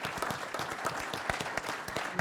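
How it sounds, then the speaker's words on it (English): An audience at a 2017 conference panel applauds, dense close handclaps pattering evenly and continuously with no talk. "So I'd like to give them all a round of applause for what they do."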